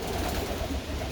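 Pigeons in a loft with a steel floor, soft low cooing over a steady murmur of birds in the enclosure, close and continuous for a brief moment.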